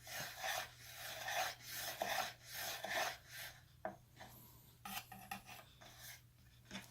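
A knife cuts strawberries into small pieces, with quiet, close, rhythmic slicing strokes against a board, the cuts coming quickly at first and then more sparsely.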